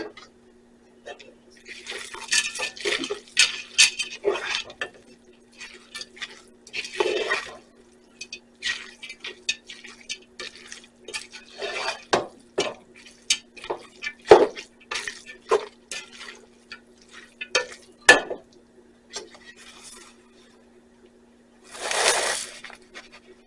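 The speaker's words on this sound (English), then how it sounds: "let's get this bacon put back in and mix this up" Bacon is stirred into cabbage and noodles in a pot, giving irregular scraping, clinking and wet shuffling bursts that come close and loud, separated by quiet pauses, with a steady low hum underneath.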